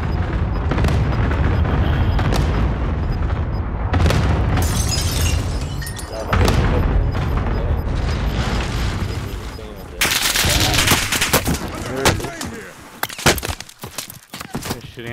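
Gunfire and explosive booms from a Call of Duty: Modern Warfare match, dense and continuous with sharp cracks and heavy blasts over loud background action, with people talking over it.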